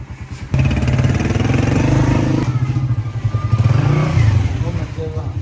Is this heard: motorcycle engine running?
yes